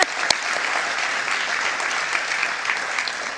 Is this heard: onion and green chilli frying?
no